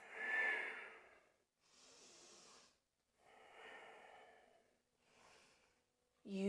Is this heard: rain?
no